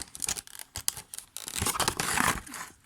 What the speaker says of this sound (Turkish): Mouse'umuzu açıyoruz. Şöyle şuradan açılıyor. Ben açıyorum.